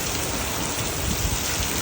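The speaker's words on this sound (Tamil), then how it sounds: "நல்ல காற்றுடன் கூடிய மழை" Heavy rain driven by strong wind pours down in a dense, steady roar that stays constant throughout, with no voices.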